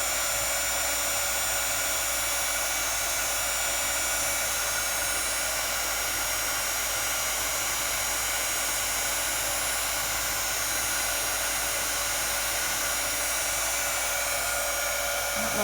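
Embossing heat tool blowing a steady, loud hiss of hot air over embossing powder on watercolor paper, continuous and close without pause.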